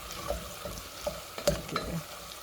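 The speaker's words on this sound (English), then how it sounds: "you have to stir every now and then to make sure that it doesn't burn" African rice pilau stirred in a cooking pot, a few soft scrapes of a spoon against the pot over a quiet sizzle, close and fairly faint.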